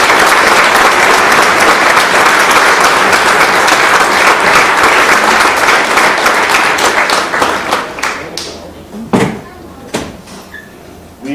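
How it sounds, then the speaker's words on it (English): Loud, dense applause from the audience at a senior sports banquet, filling most of the stretch before thinning out to scattered individual claps near the end. "they deserve a big round of applause."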